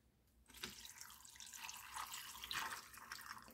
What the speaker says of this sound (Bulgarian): Приготвила съм си вода да ги залея.